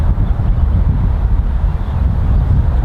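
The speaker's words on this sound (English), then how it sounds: "we're into like a 40-mile-an-hour headwind here, as usual on the JH practice tee" Strong gusty headwind around 40 miles an hour buffeting a golf practice tee, a loud continuous low roar pounding close on the microphone.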